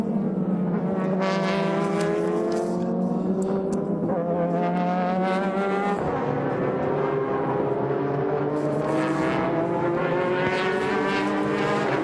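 Super GT race cars roar around Twin Ring Motegi in the 2006 Round 7 300 km race, a loud continuous blend of high-revving engines whose pitch climbs and drops as cars accelerate and pass.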